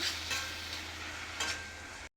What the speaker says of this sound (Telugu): ఈ టైంలో చింతపండు పులుసు వేసేసుకోండి వేసి కొద్దిసేపు వేయించుదాము